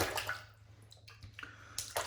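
Water being worked into shaving soap lather with a brush, heard close up as faint wet splashing and swishing in uneven bursts over a low steady hum.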